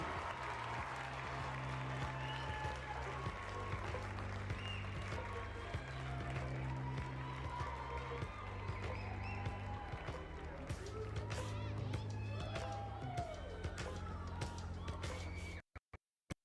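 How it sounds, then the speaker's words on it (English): Arena crowd at a Big 12 gymnastics championship applauds the top all-around finishers, a broad sustained wash of clapping and cheering over a low droning background, moderately distant, before cutting off near the end. "please help us give them one last round of applause for these top finishers in the all-around"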